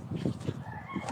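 A rooster among chickens left behind by former squatter neighbours crows, loud though kept some distance away, a brief strained call over steady background noise.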